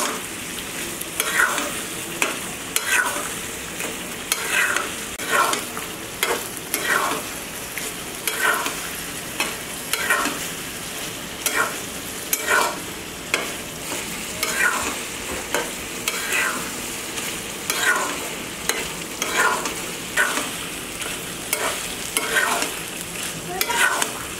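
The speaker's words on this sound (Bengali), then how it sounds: "আমার ভুড়িটা প্রায় তেল ছেড়ে দিতে শুরু করেছে। আমি আরও একটু এটা নাড়তে থাকবো নরম হয়ে আসা পর্যন্ত।" Beef tripe frying in oil is stirred steadily, a continuous sizzle punctuated by regular rhythmic scraping strokes of a spatula against the pan, close and loud, with no talking.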